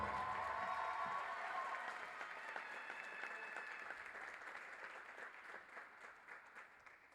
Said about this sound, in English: Ladies and gentlemen, a round of applause for McKenna Hall